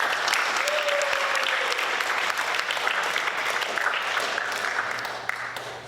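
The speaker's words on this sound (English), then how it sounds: "Can we get him a round of applause also?" At a fall sports awards ceremony, an audience claps for the team captains in a steady, moderately loud burst that fades slightly near the end, with no speech over it.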